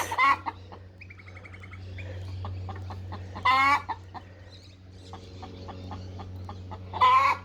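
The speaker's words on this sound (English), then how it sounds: "we've got an egg song out here" A backyard hen cackles her egg song after laying, with repeated loud bursts of squawking separated by softer rhythmic clucks, over a steady low hum.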